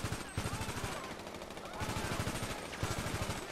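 Rapid automatic gunfire in the GTA V video game, bursts of close, loud shots repeating in quick rhythm nearly throughout, with short pauses between volleys and no talk.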